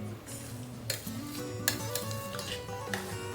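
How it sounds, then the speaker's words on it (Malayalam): Tapioca and beef being stirred and mixed in a pan, with a spoon scraping and clinking against the metal in irregular strokes over a faint sizzle, close and moderately loud with no talking. "ഇതുപോലെ കപ്പയും ബീഫും എല്ലാം കൂടെ ഒരുപോലെ ആവാനായിട്ട് നല്ലോണം നിങ്ങൾ മിക്സ് ചെയ്തെടുക്കാം"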